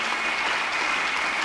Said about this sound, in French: Je pensais que vous alliez acclamer un peu plus fort.